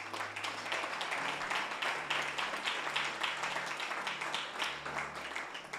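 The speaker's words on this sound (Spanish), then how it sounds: "Denle un aplauso al Señor." A church congregation claps steadily during a Spanish-language service, the hand claps moderately faint and continuous over sustained low instrumental tones, with no one speaking.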